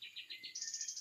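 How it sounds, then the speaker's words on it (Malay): Small birds call in the Taman Negara jungle near an observation tower, a rapid run of high, bright chirps repeating about ten times in a second, rising slightly in pitch partway through, close and clear with no talk. "Burung je setakat ni."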